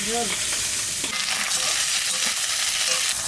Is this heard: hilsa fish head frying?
yes